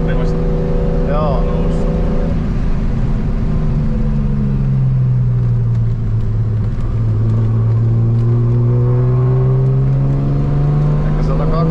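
A BMW E30 turbo race car on the Kymiring circuit pulls away from inside the cabin, its loud engine note rising and falling with gear changes as people talk over the steady drone.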